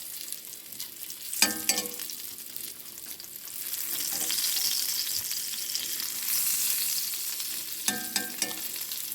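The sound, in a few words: fatback (side meat) frying in a pan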